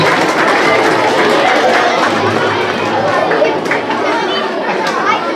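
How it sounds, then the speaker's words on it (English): Applause from children and parents at an elementary school awards show as performers leave the stage, continuous mixed clapping buried in loud crowd chatter and movement. "give them another round of applause as they exit the stage"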